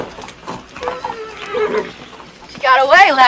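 A horse in a classic Western film neighs near the end, a loud rising-and-falling whinny following scattered speech and background film sound.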